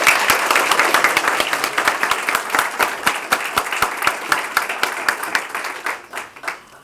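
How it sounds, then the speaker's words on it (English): An audience at a university scholarship competition on infrastructure gives a loud, dense round of applause, many hands clapping together and slowly thinning toward the end. "well, give them a round of applause"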